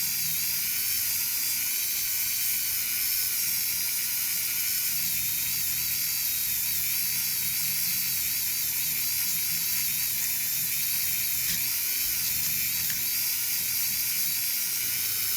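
Constant high-pitched whine of a small rotary tool with a sanding attachment running steadily on wood throughout, with a faint grinding texture underneath.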